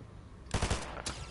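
Gunfire in the video game Fortnite: a short burst of three or four rapid shots, then a single later shot, loud and close, with no talking.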